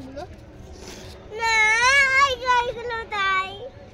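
A small child cries and wails in loud bursts near a waterside spot, with a brief adult voice at the start.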